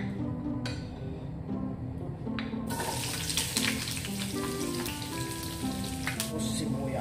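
Garlic goes into hot, smoking oil for beef sinanglaw and sizzles, a sudden loud hiss that jumps up a few seconds in and then crackles steadily over low background hum.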